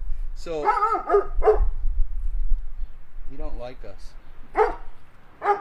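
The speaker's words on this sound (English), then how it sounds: "That's the neighbor's dog." A neighbor's dog at a house in Flint, Michigan barks in short bursts, some overlapping a person speaking nearby and others standing alone.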